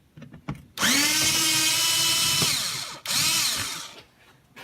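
A power drill whirs at high speed, close and loud, in two bursts separated by a brief stop as it backs out bolts holding a panel down.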